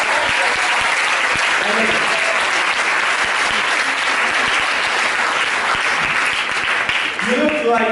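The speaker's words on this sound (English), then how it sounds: "Give a round of applause, guys." A loud, sustained round of applause from a live audience at a comedy or performance show, dense and close, with cheering voices rising near the end.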